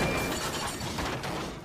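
A Thomas and Friends toy train crashes, buffers smashing with a brief, dense clattering crunch of rattling and shattering mechanical parts, fading slightly over under two seconds.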